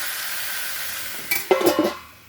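Tomato curry fries in a pan on a high flame: a steady hiss, then a short burst of sizzling and clatter as the lid comes off, close by with no talk.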